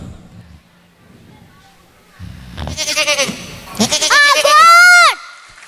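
A goat bleats as a recording played over a sound system during a preschool event's animal-sound quiz. Two or three wavering bleats rise loudly near the end, after a stretch of faint background murmur.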